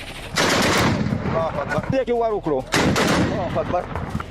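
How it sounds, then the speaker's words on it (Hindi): Gunfire and shelling along the Durand Line: loud, close bursts of rapid automatic fire and heavy blasts, with shouting voices mixed in between the volleys. "डूरंड लाइन पर कोहराम है, दोनों ओर से बम, गोले, बारूद बरस रहे हैं।"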